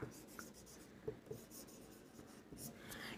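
A marker or chalk scratches out a table on a board during a maths lesson, with soft, quiet strokes and a few light taps spread over a few seconds, no voices.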